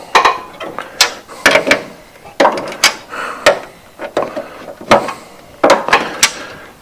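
A wrench ratchets to tighten the blade spindle on a Hustler FastTrack mower deck, giving repeated close, sharp clicking bursts in an uneven rhythm with brief pauses between strokes.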